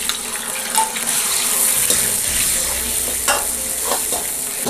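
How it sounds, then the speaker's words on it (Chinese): Pork belly stir-fries in hot cooking oil in a wok, making a loud continuous sizzle broken by scraping stirs and occasional light clinks. "把五花肉炒至淡淡的黄色"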